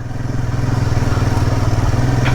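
A Royal Enfield Himalayan 452 motorcycle runs in the mountain morning at Keylong at the start of a Ladakh ride, its engine a loud, close, steady pulsing thump throughout.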